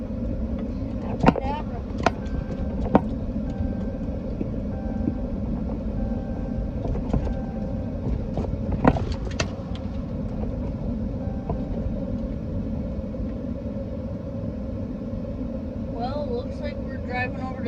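A vehicle drives along toward a hayfield, a steady low engine rumble running beneath a person talking, with a few clunks and bumps along the way.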